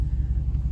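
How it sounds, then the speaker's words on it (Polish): Dodge RAM pickup with a 5.7 V8 HEMI, its exhaust a deep, steady, pulsing rumble heard from behind the truck, brief and fairly loud with no voices. "Jak słychać z tyłu, dość ładnie brzmi wydech tego samochodu."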